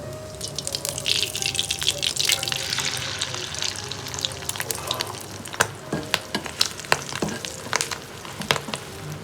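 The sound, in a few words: egg frying in a pan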